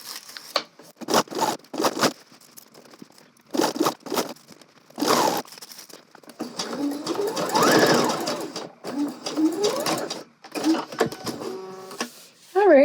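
Sewing machine stitching gathered fabric for an asymmetrical angled dress, running in repeated short bursts and longer runs with pauses between, close and fairly loud, with a few brief bits of talk near the end.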